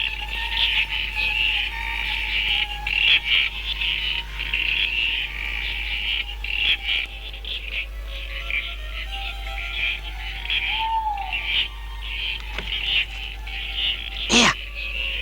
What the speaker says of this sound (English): It's the bleeding froggies!